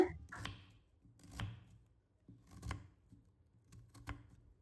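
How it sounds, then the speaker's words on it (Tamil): Knife chops in quick bursts on a board, finely chopping onion, four or five clusters of sharp taps spaced about a second apart, close and fairly quiet. "நல்லா பொடியாக நறுக்கிக்குங்க"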